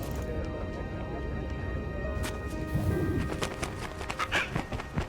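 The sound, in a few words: bird cooing in a video game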